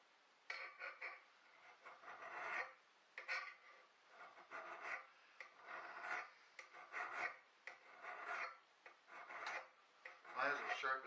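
A Mastercraft file rasps along an axe blade in steady back-and-forth strokes, each pass a gritty scrape with short pauses between, close and fairly quiet.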